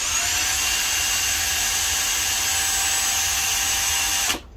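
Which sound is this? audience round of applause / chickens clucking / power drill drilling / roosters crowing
power drill drilling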